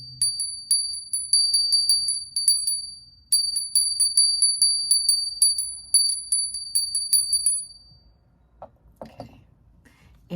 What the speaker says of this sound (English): I'm going to ring a bell really quick to get some energy.